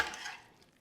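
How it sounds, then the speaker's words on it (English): Pulled pork is stirred into a sauce with a short wet scraping swish that is loud at first and fades within a second, alone with no talk. "And you can just mix it all in"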